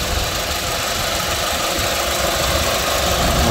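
A 2004 Mitsubishi Jolie with a 2.0 turbo engine and rear-wheel drive idles with a steady, loud, close rumble and a faint knocking clatter, running evenly without pause.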